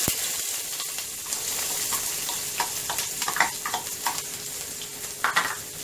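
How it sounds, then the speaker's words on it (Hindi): Onions fry in two spoons of oil in a pan for a Konkani-style drumstick dish, giving a steady close sizzle with scattered crackles and a few louder spatters and stirring scrapes. "अभी 2 चम्मच तेल डाली हूँ। अब ये प्याज डाल दूँ।"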